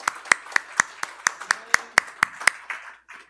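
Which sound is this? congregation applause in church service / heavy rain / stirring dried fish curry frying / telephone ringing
congregation applause in church service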